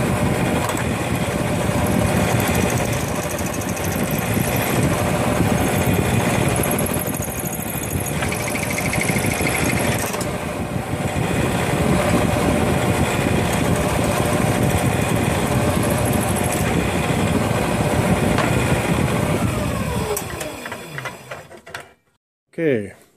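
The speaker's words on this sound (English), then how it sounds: "I'm going to drill up to the pilot holes and clean out that those threads." Drilling pilot holes with a 3/16 inch bit while building a dual band 2m/70cm J-pole antenna: a steady, close, grinding mechanical whir runs nonstop for about twenty seconds before stopping abruptly, followed by a brief final burst.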